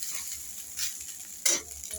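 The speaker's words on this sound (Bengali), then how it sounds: "গরম গরম ভাত ভাজা" Rice fries and is stirred in a hot pan, giving a quiet sizzle with a few sharper scraping strokes of the spoon, and no one speaks.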